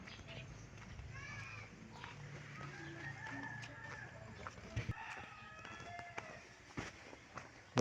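Chickens on a rural Filipino homestead give faint, distant clucks and drawn-out calls against a steady outdoor background, with rustling, scattered footsteps and a few sharp knocks nearby.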